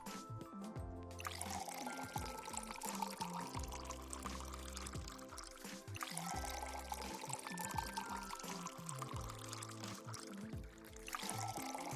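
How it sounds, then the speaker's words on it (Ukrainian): Milk pours into a flask in a puzzle video game in a steady, continuous stream with a light splashing trickle, layered over a soft musical background. "Наливаємо молоко в колбу."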